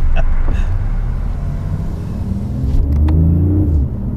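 A 2015 BMW i8 on a test drive, with a steady low engine and road rumble building in places and a brief faint tick near the start.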